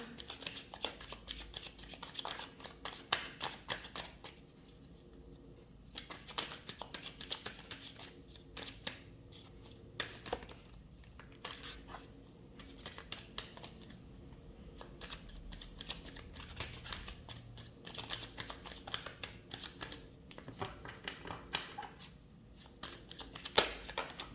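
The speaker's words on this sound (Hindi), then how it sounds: "I don't take foreign cards, so that's why I need to shuffle again" Tarot cards are shuffled by hand for a reading, a long run of soft, rapid riffling and flicking that goes on continuously with brief pauses, close and moderately quiet.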